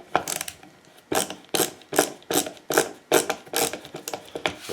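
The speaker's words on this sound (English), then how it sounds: "countersink these just a little bit" A drill countersinks screw holes in wood while building a lazy Susan painting table, heard as about eight short, loud mechanical whirring bursts in a steady rhythm with brief pauses between them.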